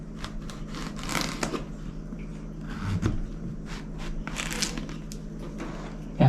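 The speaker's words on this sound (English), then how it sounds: "So I'll cut off the ends. Like I said, I'll cut them down in thirds." A knife slicing zucchini into thirds on a cutting board while canning vegetable goulash, with repeated short chopping taps over a steady low kitchen hum and no talk.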